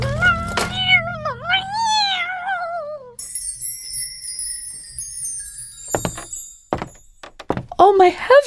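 A cat in a radio drama yowls and caterwauls in long, wavering cries, falls silent amid thuds and a metallic jingle, then yowls again briefly at the end, with a voice heard speaking alongside.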